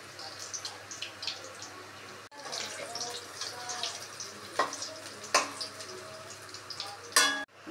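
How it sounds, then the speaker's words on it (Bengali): Pumpkin flower fritters in batter fry in hot oil over low gas, a steady close sizzle with sharper crackles and clinks as pieces are stirred and lifted out, a voice speaking over it. "দেখো এবার আমি এই বড়াগুলো ভেজে তুলে নিচ্ছি"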